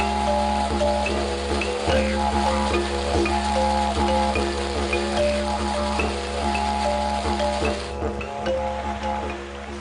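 Heavy rainy-season downpour in Liberia, a dense steady hiss of rain pattering on surfaces, with a faint tonal hum and scattered background noise running underneath throughout.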